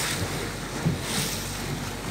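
A research boat cruises on Lake Balaton, steady engine and water rush with strong wind buffeting the microphone, a continuous loud wash without voices.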